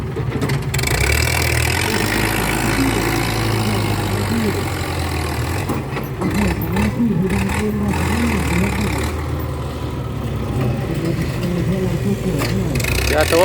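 A Ford 6640 tractor and an excavator work together moving sand, their diesel engines rumbling steadily and loud throughout with shifting revs and clanks, while someone talks over the noise.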